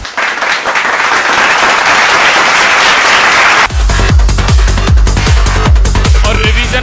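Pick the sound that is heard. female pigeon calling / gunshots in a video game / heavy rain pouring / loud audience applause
loud audience applause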